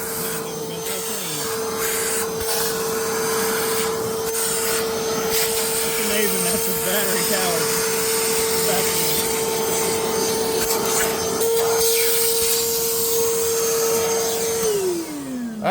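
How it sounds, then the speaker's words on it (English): A Milwaukee M18 2-gallon battery-powered wet/dry vacuum sucking up dirt, a loud, steady whine close by with gritty rattling and scraping as debris is pulled in, running continuously until the motor winds down at the end. "It's impressive for a little battery-powered vacuum."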